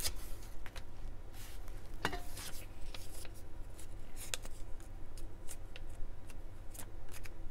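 Scissors snip through paper for a traveler's notebook journal, a series of close, crisp cuts and rustles spread irregularly through the stretch, with no talking.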